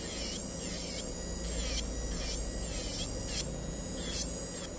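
A nail drill grinds gel polish and glitter off fingernails, its high whirring whine rising and falling in repeated strokes as pressure on the nail changes, loud and close over a low electrical hum.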